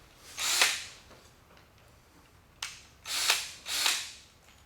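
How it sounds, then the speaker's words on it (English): Several short bursts of a power drill running in reverse on a 1976 Trans Am, each whirring up quickly and trailing off, with brief pauses between them; close by and fairly loud. "Put the drill on reverse, it'll throw the stuff away from me"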